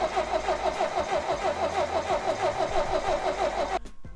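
An engine cranks and sputters in a fast, steady chugging rhythm as someone tries to start it after turning the gas on. It cuts off abruptly just before the end.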